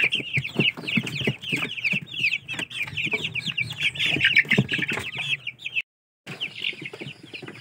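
A flock of Rhode Island Red chickens clucks busily at feeding time, dense overlapping clucks and calls close by, with a brief silent gap near the end before the clucking resumes.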